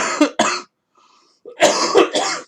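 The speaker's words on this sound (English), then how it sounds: "Bloody cough." Two harsh bursts of coughing, a brief quiet gap, then a longer run of three rough coughs, loud and close, with no talk.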